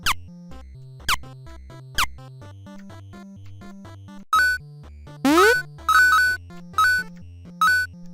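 Short game sound effects from a 2D Unity game play in sequence: three quick descending zaps, then a looping blippy tune under rising chirps and five bright chiming star-pickup hits, fairly loud and without talk.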